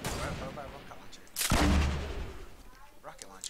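Gunfire in an online shooter game rings out as a sudden loud burst at mid-clip, decaying over about a second, with faint game ambience and distant sounds around it.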